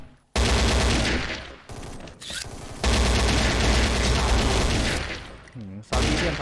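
AK rifle fire in the XSHOT shooter game, dense rapid automatic bursts that are loud and close, with short gaps between strings of shots.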